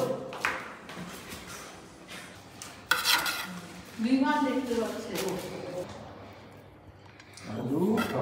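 A cooking pot is carried and handled outdoors in front of a flat, giving scattered metallic clanks and scrapes under people talking.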